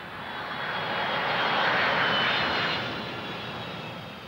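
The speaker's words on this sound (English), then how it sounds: "We put planes on the runway in Aviano," Military planes sit on the runway at Aviano, fuelled and ready, their aircraft engines droning loudly and continuously, swelling to a peak midway and easing off slightly, with no voices present.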